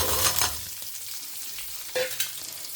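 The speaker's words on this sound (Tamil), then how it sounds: "சின்ன வெங்காயம் இது கொஞ்ச நேரம் வதங்கட்டும்" Small shallots fry in oil with asafoetida, a soft, steady sizzle broken by a few louder stirring scrapes and clinks of a spoon against the pan, with no voices present.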